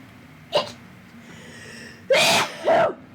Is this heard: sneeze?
yes